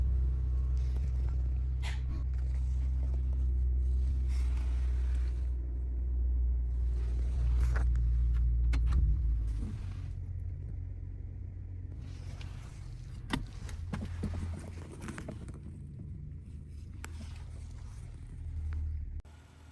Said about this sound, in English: Starting it up. Clean start, no lights on the dash.